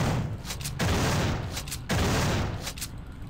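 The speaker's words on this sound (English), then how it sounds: "Start shooting the shit out of it!" Rapid bursts of gunfire from the sci-fi horror game System Shock 2, loud and close, coming in several dense volleys with brief lulls between them.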